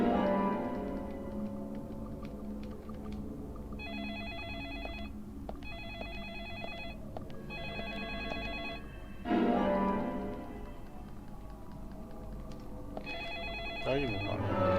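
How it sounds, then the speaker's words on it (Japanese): A telephone rings repeatedly inside the Red Season Profile video game, its bright trilling bursts coming in regular pairs over background game music and ambience, with a brief vocal sound near the end. "はい、電話ですね。"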